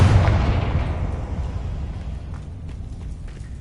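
A Confringo blasting spell in the Hogwarts Legacy video game erupts as a loud, close explosive boom that starts at full force and then rumbles away in a long, slowly fading roar, with nothing else heard alongside it.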